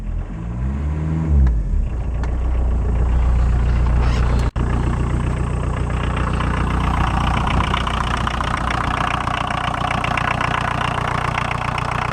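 A VW 1.6-litre diesel caravan engine that had sat for seven years cranks, fires and settles into a loud, steady idle with a rough diesel clatter, close by.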